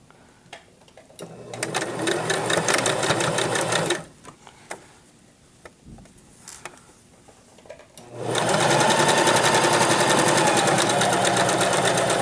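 A sewing machine stitches the seam of a duck-shaped pillow, including back stitching. It runs in two bursts of steady mechanical whirring, separated by a short quiet pause in which the fabric is handled. The second run is louder and longer.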